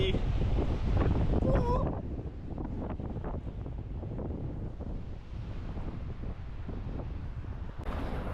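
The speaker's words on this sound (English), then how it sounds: "It's very on the windy side here." Strong coastal wind at London Bridge on the Great Ocean Road, buffeting the microphone in a continuous roar with surf underneath, loudest at the start and end.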